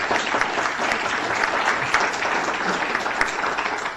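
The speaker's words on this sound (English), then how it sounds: "Give them a nice round of applause." Steady applause from a crowd, dense clapping holding at an even level for several seconds.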